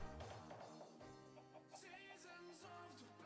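Chickens cluck softly in the Minecraft modpack FTB Sky Odyssey, a few clipped bursts over a busy layer of game music and ambience, faint and mid-distance.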